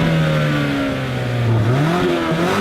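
A Mazda mid-size crossover engine revs hard toward 6,000 rpm, a loud close droning growl climbing and dipping in pitch continuously for under three seconds.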